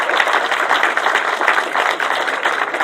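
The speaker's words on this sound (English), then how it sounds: "Let's give all these guys a cheer again" A crowd at a British sidecar speedway championship final at Belle Vue applauds steadily, a dense continuous patter of clapping from many hands, fairly loud and without pause.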